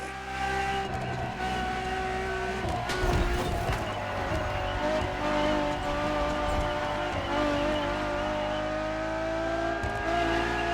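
Ferrari Enzo supercar in The Crew Motorfest racing game, a sustained engine drone with rising and falling revs and harmonic whine, brief tire scrub midway, loud and continuous under a game soundtrack.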